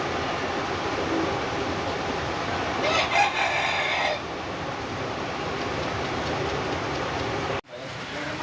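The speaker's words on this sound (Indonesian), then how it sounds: "Ayam yang pertama Pak Bos punya Mister Gendut." A large rooster weighing over three kilograms gives one crow midway through, set against a steady wash of background noise, with a short dropout near the end.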